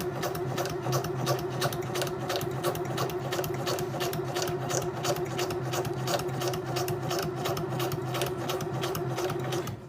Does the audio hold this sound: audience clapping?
no